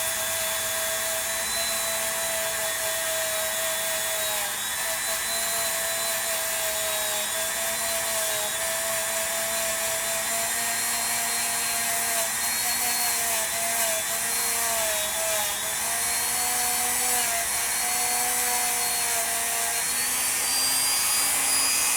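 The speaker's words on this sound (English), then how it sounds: "I'm going to turn my little Dremel on to clean this up." A high-pitched Dremel rotary tool whines steadily for a long stretch, its pitch dipping and wavering slightly as it grinds brass off a Coleman lantern part, close and loud.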